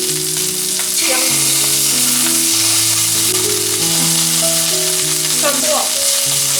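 Dried chili, onion and ginger sizzle in a wok over low heat, a loud, steady frying hiss with occasional stirring scrapes, continuous from start to finish.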